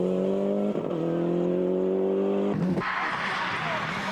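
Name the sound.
Toyota rally car racing at Ypres Westhoek Rally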